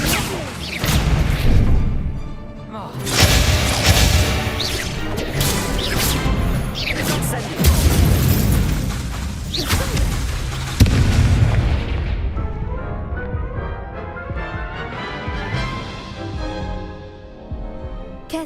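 Fiery spell blasts of Incendio in Hogwarts Legacy go off as a run of heavy booming bursts and crashes, loud and repeated, with game effects rumbling between them before fading toward the end.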